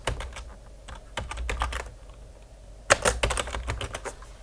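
Quick clusters of close computer keyboard keystrokes clatter while typing in Microsoft Word, two bursts separated by a short lull, with no voice.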